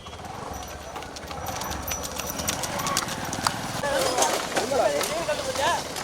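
Hooves of racing bulls pound in a bull cart race, a busy rapid clatter mixed with crowd noise and loud talk over a public address, with some high whistles or shouts near the end.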